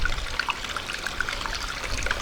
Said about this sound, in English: Got some little water troughs running around the property here.